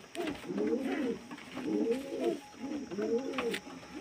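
Pigeons coo nearby in three rhythmic, rolling phrases, fairly loud and clear with a few faint background noises.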